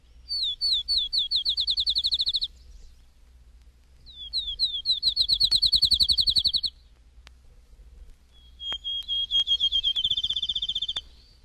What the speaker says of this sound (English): Field Sparrow